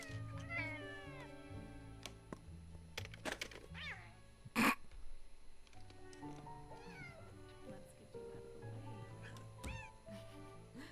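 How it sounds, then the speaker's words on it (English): A pet cat meows repeatedly nearby in a series of drawn-out, rising and falling cries, heard over quiet background sound with a sharp knock midway. "Jesus, your fucking cat."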